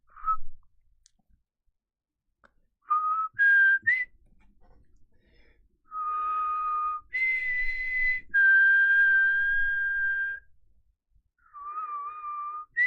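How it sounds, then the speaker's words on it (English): A person whistles a series of clear, sustained notes with short gaps between phrases, alone and close by, in a quiet room with only faint background clicks. "In my mind, I was going to do an epic whistle"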